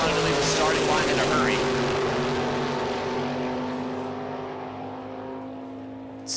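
Two 1968 Camaros pull away from a drag strip starting line, one black and red, their engines a sustained loud roar that drops off as they move away, with a track announcer talking over them.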